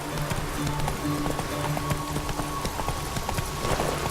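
Roach, Geralt's horse in The Witcher 3, gallops in a quick even rhythm of hoofbeats, near and steady over a humming background.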